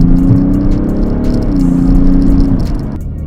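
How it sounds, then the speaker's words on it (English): Diesel engine of an Alpina D3 F31 revving under acceleration, a loud, close drone whose pitch shifts and climbs in waves before easing off near the end. "even though this is a diesel car, the engine still sounds pretty good"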